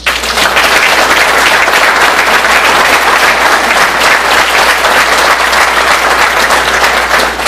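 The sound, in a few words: audience applause at a hall of fame induction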